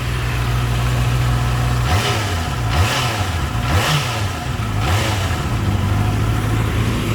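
A 2017 Honda CBR 650F motorcycle with a stock, quiet exhaust idles steadily close by, then blips its throttle in a few quick revs before settling back to a smooth idle.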